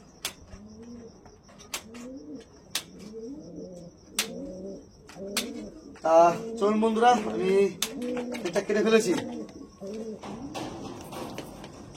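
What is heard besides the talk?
Andhra pigeons cooing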